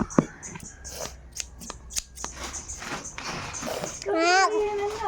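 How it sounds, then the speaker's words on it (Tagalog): Scissors snip a few times during a package unboxing, short crisp clicks scattered under a child's chatter, with a louder voice rising near the end. "Gunting ako dito"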